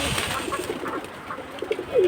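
Pigeons of various breeds coo close by in soft, throaty repeated calls, with no one speaking.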